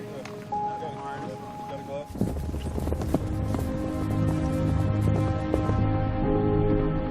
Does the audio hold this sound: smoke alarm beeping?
no